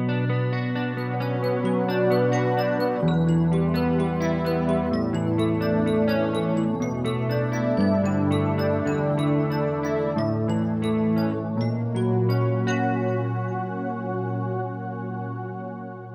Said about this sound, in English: And I'm going to use the expression pedal to fade the keyboard sound in and out.